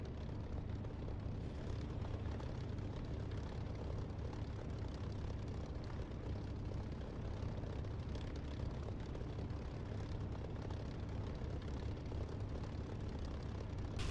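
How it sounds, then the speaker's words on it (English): A Supermarine Spitfire in a flight simulator game, fitted with a downloaded engine sound, runs with a steady, continuous low propeller-engine drone, faint and unbroken throughout with no talk over it. "this is the Spit with a sound that I downloaded for the Spit engine"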